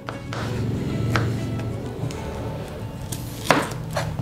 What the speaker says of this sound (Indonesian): Kita potong ukurannya sama seperti wortel tadi.